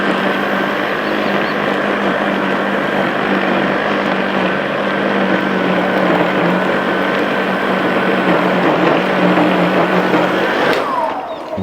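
A motorized lawn scarifier runs steadily and loudly while aggressively dethatching a grass lawn, its engine drone and raking whir continuous for about eleven seconds before cutting down sharply at the end.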